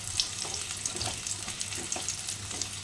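Eggplant pieces frying in a pan of hot oil for a Maharashtrian dahi vanga dish, giving a steady, close crackling sizzle with small bubbling pops throughout and no talk.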